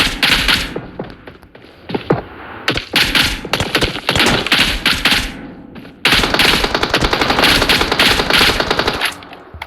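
Rapid rifle gunfire in a shooter video game set around Pokrovsk, with loud automatic bursts and sharp single shots crackling close and continuously, broken by short pauses before a long, dense volley.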